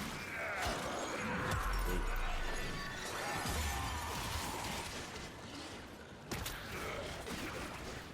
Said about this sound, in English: You just hear glass sound effects